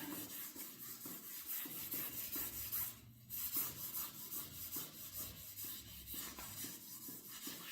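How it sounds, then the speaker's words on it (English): A Scotch-Brite pad scuffs the dash pad of a 1972 Buick Centurion with quiet, continuous back-and-forth rubbing and a brief lift about midway, up close and faint, with no speech. "I'm just going to make sure I'm covering every little square inch here. And if your Scotch-Brite gets dull, get a new one."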